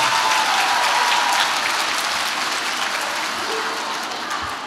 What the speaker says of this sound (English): Give yourself a big round of applause for sharing some kindness today.